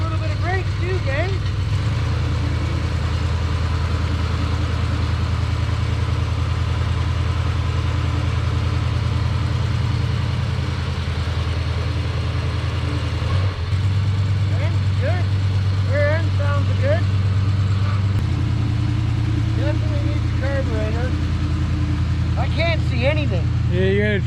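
A 1970 Dodge D-100 pickup, recently revived after decades abandoned, runs steadily with a low, constant engine drone while backing up, a brief change in tone midway, with voices talking over it throughout.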